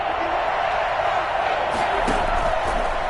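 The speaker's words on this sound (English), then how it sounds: "the crowd getting into it as we come up on a big 3rd down" A football stadium crowd roars steadily before a big third down, a dense wash of cheering throughout with a few sharper shouts and bangs rising near the end.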